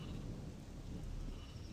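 Steady, dense rain with a low rumble of thunder fills the scene in Gothic II, a constant wash of downpour heard alone without voices.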